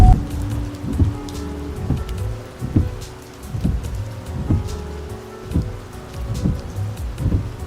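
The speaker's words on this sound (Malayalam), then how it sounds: "നല്ല മഴയൊക്കെ ആയിട്ട് നല്ലൊരു ആംബിയൻസ് ആണ് ഇപ്പോൾ." Heavy monsoon rain on a road trip through Ranipuram in Kasargod, a loud, dense, continuous downpour with pattering drops on a nearby surface and recurring low rumbles.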